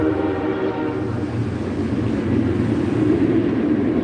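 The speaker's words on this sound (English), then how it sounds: "Got a train going by." A train rolls past close by, a steady loud rumble and rattle with sustained horn tones running through it for the whole stretch, with no talking.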